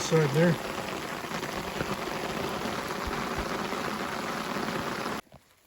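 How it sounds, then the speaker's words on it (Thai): Rain falls steadily in a forest while mushrooms are picked, a dense even patter close by with a voice briefly at the start, then it cuts off abruptly near the end. "ฝนตกห้ามก้อย"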